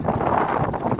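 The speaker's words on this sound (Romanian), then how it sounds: "Mamă, dar ce tare bate vântul pe partea asta." Strong wind gusting high up in the tower of the Carol I Mosque in Constanța, a steady, close roar buffeting the microphone throughout with no pauses.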